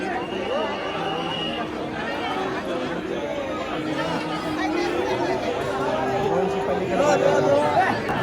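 Dense crowd chatter in a temple darshan queue, a steady close hubbub of many overlapping voices with no single voice standing out, holding at an even loudness throughout.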